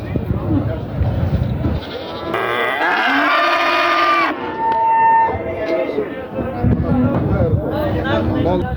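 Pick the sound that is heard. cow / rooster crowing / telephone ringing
cow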